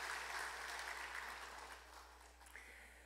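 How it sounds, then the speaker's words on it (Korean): A church congregation claps in welcome during a Sunday worship service at Gochon Central Church, a soft, steady wash of applause that fades gradually over a few seconds. "환영의 박수로 축하하겠습니다"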